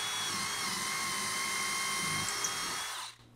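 Continuous high-pitched whine of a power drill cutting a 3/16 hole through drywall into a wood wall stud, running steadily for three seconds, then cutting off.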